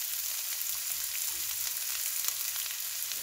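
Onion sizzling in a pan with oil for honey chilli potato, a steady close hiss of frying that holds evenly throughout with no talk.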